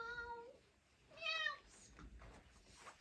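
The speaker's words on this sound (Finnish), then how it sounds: "Kissa!" A street cat meows twice, the first call drawn out and the second a higher, shorter cry, fairly close and clear over quiet room noise.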